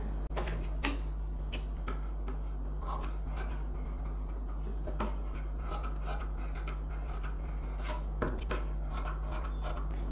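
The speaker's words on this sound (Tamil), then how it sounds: "லைனிங் எக்ஸ்ட்ரா இருக்கிற மெயின் கிளாத்தை நான் கட் பண்ணி எடுத்துடுறேன்" Scissors trimming away extra main fabric along the lining of a tulip-sleeve designer blouse, soft close rasping snips and rubs recurring quietly over a steady low hum.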